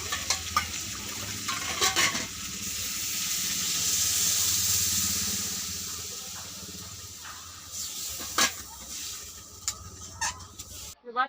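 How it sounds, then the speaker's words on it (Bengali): Water poured into a pan of frying pointed gourd, raising a broad hiss of sizzling steam that swells and fades while a spoon scrapes and stirs. "এবার আমি জল দিয়ে দেব।"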